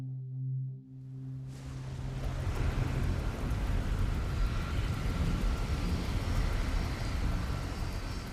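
Heavy wind and rain lash Taipei's Chiang Kai-shek Airport as a Singapore Airlines jet taxis toward the runway. After a brief quiet start, a loud, steady, unbroken roar of storm noise fills the scene.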